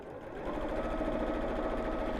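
A sewing machine runs top stitching along a bamboo-handled bag, a steady, fast mechanical whir that starts up and holds an even hum close by, with no one talking.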